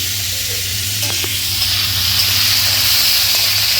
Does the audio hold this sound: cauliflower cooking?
yes